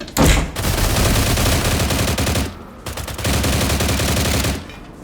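Assault rifle gunfire in the shooter game Stalzone, two long sustained bursts of rapid automatic fire with a brief gap between them, loud and close, no talking.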